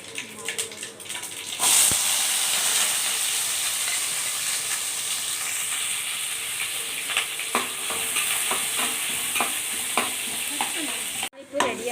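Mustard seeds and fenugreek sputter and crackle in hot oil during tempering for a Kongu-style fish curry, a steady close sizzle with a loud burst near the start and scattered pops and stirring clatter throughout.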